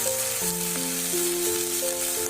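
Chopped onion and tomato frying in hot refined oil for a mixed vegetable curry, a steady close sizzle overlaid by sustained tonal hums that shift pitch, with no voices.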